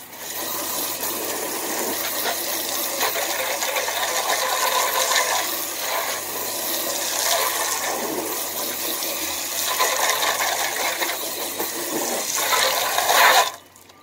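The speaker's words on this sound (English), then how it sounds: "I'm going to rinse this off" Water sprays steadily onto a car hubcap during a rinse, a loud continuous hiss with slight surges and a brief louder burst near the end.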